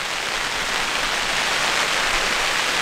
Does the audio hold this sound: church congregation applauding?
no